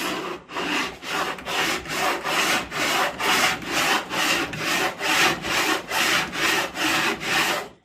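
A Kutzall carbide carving rasp scuffs painted wood in steady, close back-and-forth strokes, about a dozen rasping passes in even rhythm with no talking.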